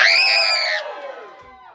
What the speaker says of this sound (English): I wasn't expecting that much of a scream.